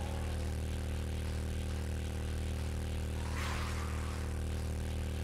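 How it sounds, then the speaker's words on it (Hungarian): A motorcycle engine in the video game 7 Days to Die runs as a steady, droning hum with a brief rushing swell midway, heard alone at a moderate level. "Megy ez a motor, piszok gyorsan."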